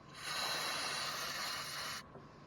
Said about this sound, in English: I'm just going to spray it down a little bit more.